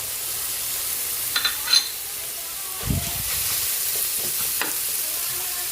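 Ground pork sizzles with tomato in a hot pan. The frying hiss runs steadily throughout, broken by a few brief stirring scrapes and a soft thump near the middle.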